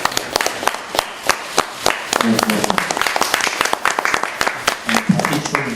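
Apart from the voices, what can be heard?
applause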